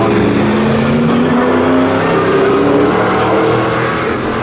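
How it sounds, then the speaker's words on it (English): A race car in an All-Comers and ASCAR race at Snetterton circuit roars past with a loud, steady engine drone that fills the whole stretch, without a break. "There goes Everson, the 96 car, sat there in 3rd place."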